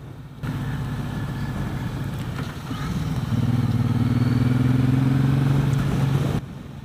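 A 2017 Suzuki Boulevard M109 BOSS motorcycle cruising down the road, its engine a steady low rumble that swells slightly after a few seconds and holds at a constant loud drone without talk.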